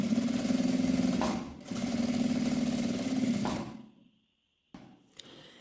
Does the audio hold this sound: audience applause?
no